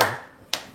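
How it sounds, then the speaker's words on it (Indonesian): Two quick hand claps ring out, the first at the very start and the second about half a second later, close and crisp with a short fading tail. "biar semangat tepuk tangan dulu dong"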